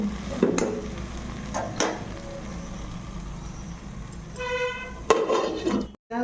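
A chili chicken sauce of tomato ketchup and chili is mixed in a pan and then covered, with metallic clinks and scraping over a low sizzle, followed by a ringing clatter as the lid goes on.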